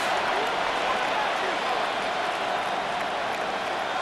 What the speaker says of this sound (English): This crowd, they're trying to force a false start.